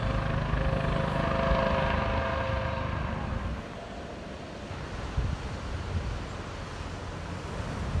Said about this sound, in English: one of the tourist helicopters was circling around it